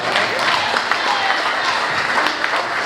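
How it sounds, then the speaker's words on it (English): At a May 2023 community meeting, a crowd claps for mothers. The brisk, moderately loud clapping has individual hand slaps standing out, and voices murmur and call out underneath. "Give my mothers a hand clap."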